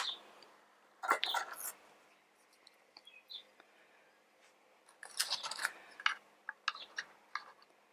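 Snipping and crisp snapping as the center is cut out of an Echeveria succulent, a few close, short bursts separated by quiet pauses, with faint murmuring in between.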